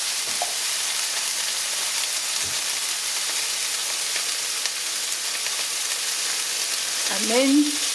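Steak browning in oil in a hot pan gives a steady, close sizzle that stays even throughout, with a brief faint voice near the end.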